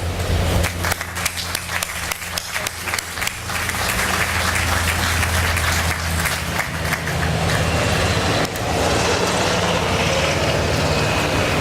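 A large crowd at an outdoor demolition ceremony applauds loudly and continuously, dense clapping blending with low background rumble for the whole stretch.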